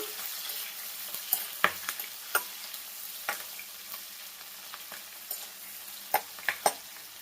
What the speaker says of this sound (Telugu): అవి అయితే ఫ్రై అవుతున్నాయి కదా ఇవ్వండి సన్నగా కట్ చేసుకున్న ఆనియన్ పచ్చిమిర్చి యాడ్ చేసుకున్నాను